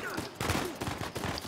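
Combat gunfire in the video game Uncharted 4, with rapid overlapping shots and bursts crackling close and loud across a busy battle mix of weapons and effects, a voice faintly underneath.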